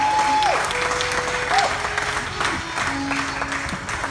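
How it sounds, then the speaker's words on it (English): Applause from an audience at a live music performance in Baltimore, Maryland, a steady wash of clapping filling the whole stretch, with faint tonal sounds and some murmuring mixed in. "give us a round of applause for that endeavor"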